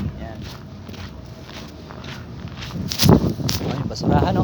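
Footsteps crunch over icy ground outdoors in cold Estonian weather, an uneven walking rhythm close by, with someone talking over them and the crunching growing louder toward the end.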